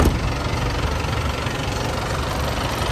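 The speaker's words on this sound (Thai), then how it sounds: "ข้างหน้าเดี๋ยวสตาร์ทเครื่องด้วย" A 1994 Isuzu TFR single-cab diesel pickup idles close by with a loud, steady, rough engine rumble and a knocking undertone, running evenly with no pauses.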